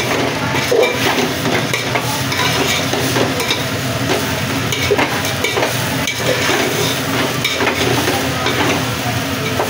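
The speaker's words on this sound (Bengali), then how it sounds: "চালটা ভাজা হয়ে গেছে।" Loud, continuous frying sizzle of rice in a pan, with repeated scraping and clinking of a utensil stirring, steady throughout.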